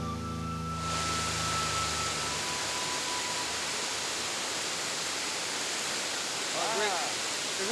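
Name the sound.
waterfall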